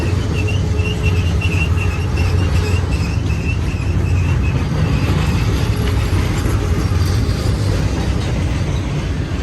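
A heavy manifest freight train rolls past close by, a steady dense rumble of wheels and cars at a constant loud level with faint intermittent high squeals.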